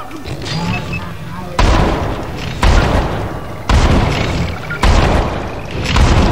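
Four loud, booming gunshots fire at roughly one-second intervals in the video game Syndicate, each with a long ringing tail.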